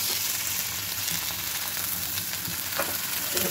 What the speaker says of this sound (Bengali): ভাজার পরে সরিষা বাটা দিয়ে রান্না করব।